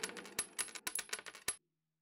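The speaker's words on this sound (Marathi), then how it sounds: "त्याच भांड्याने त्यांनी नाणी मोजायला सुरुवात केली" Coins clink and drop in a quick irregular run of bright metallic hits over about a second and a half, close and alone, then stop abruptly.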